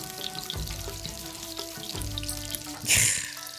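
Okdoeo fish fries gently in a pan on low heat, giving a steady close sizzle and crackle with a brief louder hiss and clatter partway through, and no talking.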